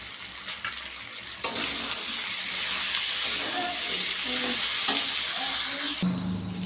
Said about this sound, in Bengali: আমি মাংসগুলোকে দিয়ে ভালো করে কষিয়ে নেব।